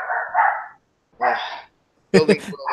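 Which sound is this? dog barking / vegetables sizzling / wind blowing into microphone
dog barking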